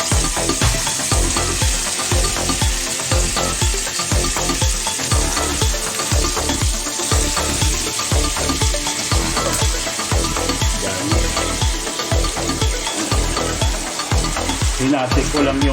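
Cabbage sizzles steadily in a hot pan as it is stirred, with a regular scraping rhythm of about one stroke per second running under the continuous frying hiss throughout, close and fairly loud.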